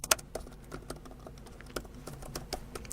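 Keyboard connected to a Huawei MatePad 11.5 tablet being typed on at a moderate pace, quick irregular close-up key clicks with a few sharper taps, no voice.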